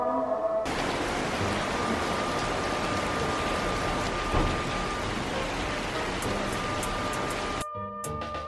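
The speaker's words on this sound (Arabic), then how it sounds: "يلا يلا اسمعوا معي صوت المطر" Steady heavy rain falling outdoors, a dense continuous hiss that holds at a constant loud level, then cuts off abruptly near the end, with no talking.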